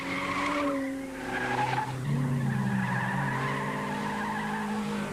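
A 1990 rally car slides through a stage as its tires skid and squeal loudly, a sustained wavering screech over the engine drone, close and continuous.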